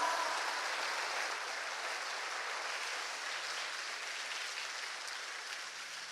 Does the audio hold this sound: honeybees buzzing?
no